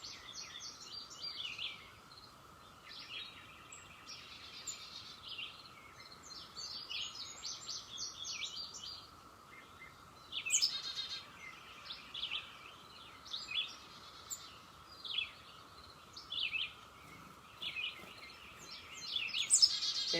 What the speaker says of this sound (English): I'm listening to the birds right now